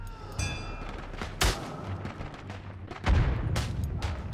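Gunshots in a World War One shooter game, a few sharp cracks and booming reports spaced apart, some nearer and louder, others distant, over ambient battlefield noise.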